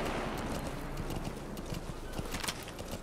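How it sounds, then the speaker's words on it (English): Horse hooves clip-clop steadily in the video game Metal Gear Solid V: The Phantom Pain, a continuous rhythmic trot close up over a low ambient game backdrop, with no talk. "Speed up, horse."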